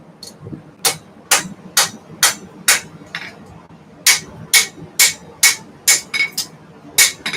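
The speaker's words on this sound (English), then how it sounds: "So I'm forging down that really thin edge." Sharp ringing hammer blows forge down the thin cutting edge of a lawnmower blade, likely 1075 steel, landing in an uneven steady rhythm of about fifteen loud close strikes with no talk.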